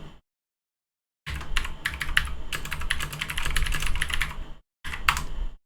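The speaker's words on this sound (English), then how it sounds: "So if I just type hello, I'm looking at my levels and I can see it's picking that up." Typing on a computer keyboard, a fast run of close, crisp key clicks that starts after a short silence, breaks off briefly and then resumes.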